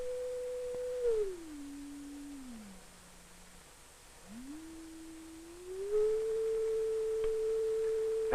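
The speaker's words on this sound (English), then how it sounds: "We'll generate the tone in this oscillator." A pure electronic tone from an oscillator steps down through several lower pitches, fades almost to nothing, then climbs back up to its starting level and holds steady, with faint background hiss.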